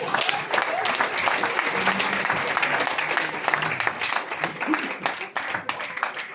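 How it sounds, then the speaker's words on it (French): A studio audience at a French game show breaks into dense, loud applause that stays steady throughout, with faint voices mixed underneath. "Caroline, je vous demande de me suivre sous les applaudissements du public."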